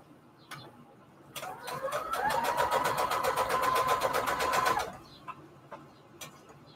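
A sewing machine runs a straight stitch through fabric on an index card, a steady fast mechanical whirr lasting about three and a half seconds, with a few faint clicks before and after.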